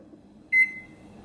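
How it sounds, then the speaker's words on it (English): An oven timer gives a single short electronic beep while being set, clear and close over a quiet room. "we'll set this timer for 9 minutes"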